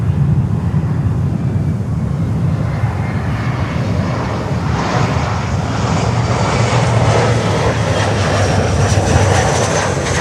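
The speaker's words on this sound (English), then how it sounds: "And we have a 320 coming in. LATAM Airlines Flight 4400 from Bogota." A LATAM Airlines Airbus A320 arriving from Bogota at Miami airport, its engines giving a steady, loud roar that builds in the second half as the airliner draws nearer.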